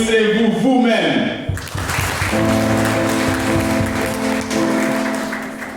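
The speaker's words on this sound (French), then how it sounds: "Applaudissez-vous vous-même." A church congregation breaks into loud applause that swells and holds steady, mixed with a crowd murmur and sustained tones running under it.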